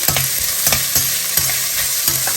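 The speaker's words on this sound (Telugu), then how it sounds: "ఒక ఆనియన్ పెద్ద సైజ్ ఆనియన్ తీసుకున్నాను నేను ఇలా చిన్న చిన్న పీసెస్గా కట్ చేసుకుని వేసుకోవాలి" Chopped onions and green chilli fry in hot oil for a chilli chicken dish, a steady close sizzle broken by a few regular scraping stirs of a spatula, with no voices.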